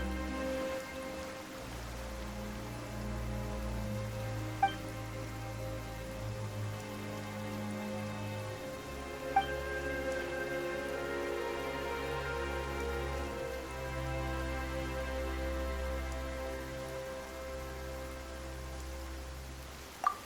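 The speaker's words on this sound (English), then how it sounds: "Why is it raining all of a sudden?" Steady rain patters throughout a Genshin Impact cutscene, a soft even wash over a low ambient music bed, with a few faint chimes along the way and no talk.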